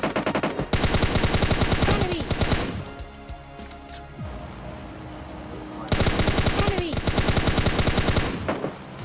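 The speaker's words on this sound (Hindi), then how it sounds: "अब उधर से गोली बारी चालू हो जाती है सब लोगों में" Rapid automatic gunfire in a battle royale video game rattles out in long, dense bursts, loud and close, easing into scattered shots and clatter midway before another sustained burst erupts; no talking is heard over it.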